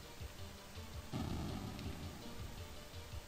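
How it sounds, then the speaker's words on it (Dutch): Rain and rumbling thunder in a Lion King video game, a constant hiss with a louder rumbling burst midway, no voices. "er komt constant bliksem op steeds dezelfde plekken waar je heen wilt springen"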